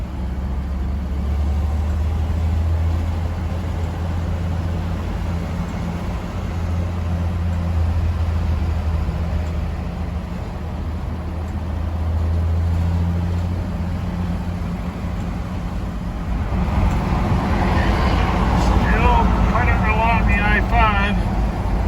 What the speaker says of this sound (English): old Ari down there in SoCal, cruising that old pickup around them Southern California freeways